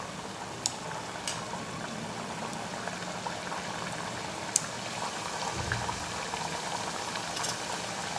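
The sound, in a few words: farsi puri deep-frying in hot oil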